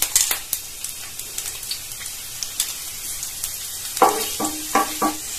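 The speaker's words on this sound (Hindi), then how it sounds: "रिफाइंड गर्म हो चुका है, अब इसमें डाल देंगे 2 कटी हुई हरी मिर्च।" Chopped green chillies dropped into hot refined oil on a tawa, a continuous crackling sizzle with sharp spits and pops, turning busier with bursts of stirring near the end, close and without talk.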